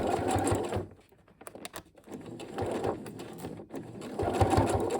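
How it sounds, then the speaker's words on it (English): A sewing machine backstitches the seam of an upcycled pencil case, motor whirring steadily up close, pausing briefly before running forward again at a fast, even clip. "we're going to back stitch"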